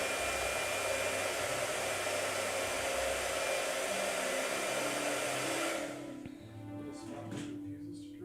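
A hair dryer runs loud and close with a steady whooshing roar, then cuts out near the end, leaving quieter room sound.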